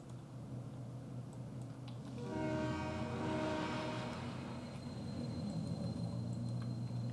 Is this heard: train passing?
yes